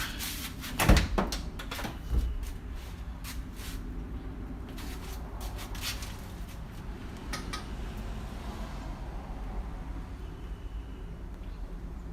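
A door is worked on close by with a couple of sharp clunks and rattles near the start, then a long stretch of quieter scraping and handling noise with no talking.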